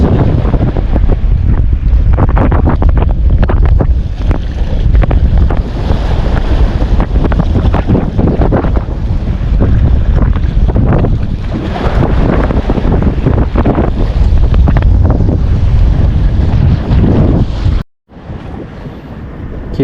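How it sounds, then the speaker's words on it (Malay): Strong storm wind off the sea in Aceh blasts continuously into the microphone, with rough gusts and surf-like roar throughout and a brief dropout near the end. "Kondisi laut lagi berangin teman-teman. Di Aceh lagi badai."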